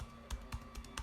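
Several quick keystrokes on a computer keyboard as a search word is typed while adding a product in WooCommerce, four or five distinct clacks in an uneven rhythm, close and moderately loud over a low background hum.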